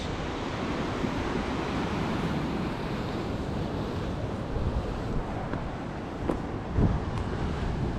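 Sea water surges in and out of a sea cave on a Scottish rocky shore, a constant roaring wash of surf buffeted by wind noise, with a few louder rushes.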